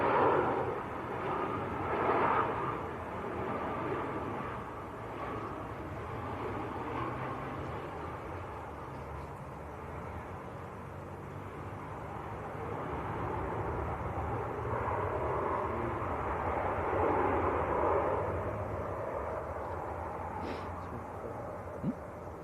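An EasyJet airliner from Malaga moves at Manchester Airport, producing a broad, distant jet roar that rumbles steadily, dips, then swells again over about twenty seconds.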